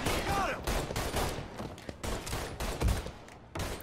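Rapid bursts of gunfire in the video game Mafia III, repeated cracking shots and volleys close by, loud and dense with brief gaps between clusters.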